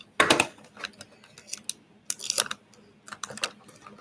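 Adhesive tape pulled off a roll and pressed onto a craft kit box, a series of sharp ripping bursts and short crackles with quiet gaps between, close and fairly soft, no talking.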